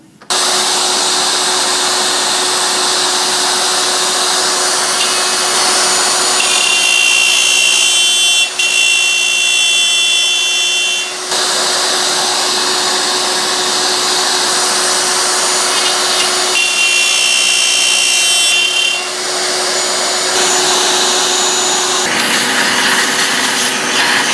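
Wood router with an edge guide cutting a mortise in wood, a steady loud high whine running continuously with slight shifts in pitch as the bit moves back and forth, close and alone.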